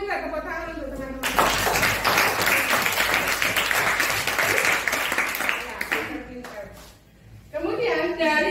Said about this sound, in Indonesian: Minta tepuk tangan untuk teman-teman.